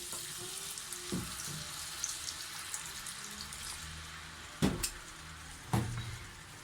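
White wine sizzles and hisses in a hot pan while a steak sauce is made, a steady frying crackle with a few sharper clinks or stirs near the end, with no talking.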